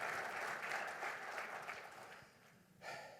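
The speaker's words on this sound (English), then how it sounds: "please join me with a round of applause" A conference audience claps together in a dense, steady round of applause that fades toward the end, with a brief final swell, heard from within a large hall.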